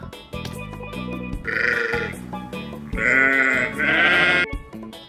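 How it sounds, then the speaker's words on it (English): A toy animal sound of a sheep plays two drawn-out, wavering bleats over steady background music, fairly loud and with no talking. "Sheep."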